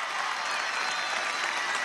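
Steady, full applause from a large crowd at a political victory speech after a presidential election, continuous and fairly distant with no breaks.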